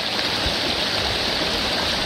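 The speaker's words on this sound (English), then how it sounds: "This waterfall is as high as I went. Water's still raging." A raging mountain waterfall in Tyndrum, Scotland, roars as a constant, dense rush of white water close by, unbroken and loud with no voices.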